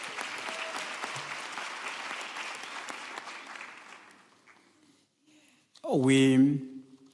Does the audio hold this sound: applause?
yes